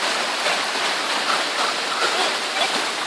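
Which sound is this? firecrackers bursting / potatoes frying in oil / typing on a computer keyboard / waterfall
waterfall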